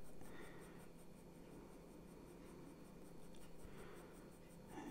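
Graphite pencil shades across paper with a continuous soft scratchy rasp, close and quiet, swelling slightly with the strokes.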